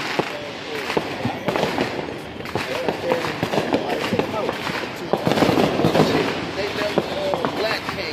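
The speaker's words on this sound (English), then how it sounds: "They got the fireworks going on." Fourth of July fireworks exploding in a rapid, irregular string of sharp pops and crackles, moderately distant, continuous throughout with a denser flurry toward the middle and end.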